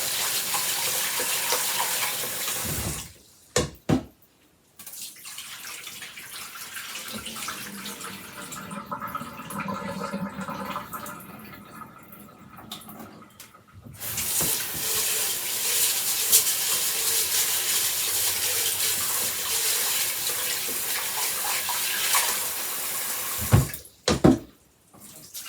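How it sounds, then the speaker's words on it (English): Water runs and splashes steadily into a container as rice is rinsed, stops for a stretch of quieter swishing and pouring, then gushes loudly again near the end. "And then pour off as much water as you can without letting the rice come out."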